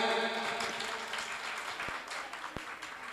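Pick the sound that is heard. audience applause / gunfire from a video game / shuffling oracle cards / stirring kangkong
audience applause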